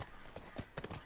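Horse hooves clip-clopping in The Last of Us video game, a quick run of soft, muffled hoof thuds over a dense background, brief and fairly quiet.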